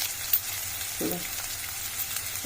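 Curry leaves crackle and sizzle in hot oil while bitter gourd with sesame powder is being cooked, a steady close frying hiss with one brief louder burst around the middle, and no voices.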